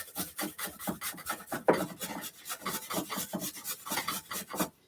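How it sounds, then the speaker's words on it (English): Rapid, rhythmic rasping of potato shredded on the coarse side of a box grater, steady back-and-forth strokes close up, fairly soft, with no talking. "And this is the shredded side of the grater, so this is easier than the grater side."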